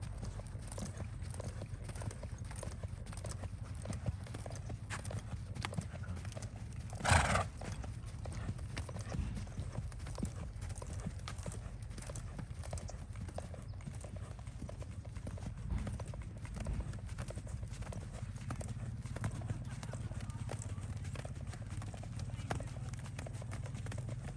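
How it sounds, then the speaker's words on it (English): Tennessee Walking Horse cantering and gaiting in an arena, hooves giving a steady rhythmic clip-clop throughout at moderate distance, with one sharper louder impact partway through and voices faintly in the background. "I just let her go into a canter and bring her back down"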